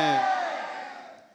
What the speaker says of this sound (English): I want you all to say Fateh loudly and raise your hand together